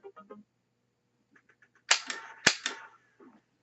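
Zapper shots from the NES game Duck Hunt: two sharp, loud bursts of electronic gunfire close together, each with a short noisy tail, framed by brief quieter game tones before and after.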